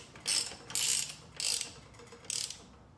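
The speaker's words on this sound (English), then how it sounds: "Cozy up the axle nut a little bit." Ratchet wrench snugging the axle nut on a heavy eBike wheel fitted with torque plates: four bursts of rapid, bright ratcheting clicks in a steady rhythm, close and fairly loud, with no talk.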